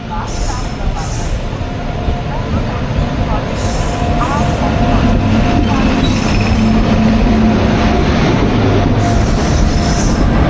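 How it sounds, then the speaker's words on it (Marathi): The Madgaon-Bandra Express rolls into Ratnagiri station with a loud, continuous rumble, squealing wheels and rattling carriages close by, while someone talks over it. "गाडी मित्रांनो आपली जवळजवळ दीड तास लेट आले ही बघा"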